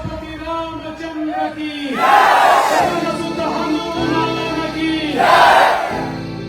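A large crowd at a Dahi Handi celebration chants slogans in unison, rising to two loud roaring surges between steadier stretches of massed voices.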